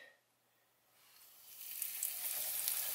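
Panko-breaded flounder drops into hot frying oil, a bright hissing sizzle that swells after a quiet second and then holds steady and fairly loud.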